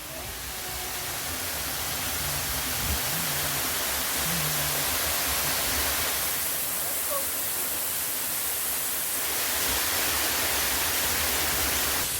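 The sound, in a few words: waterfall in Jamaica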